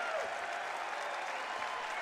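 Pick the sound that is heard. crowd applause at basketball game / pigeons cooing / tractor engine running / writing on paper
crowd applause at basketball game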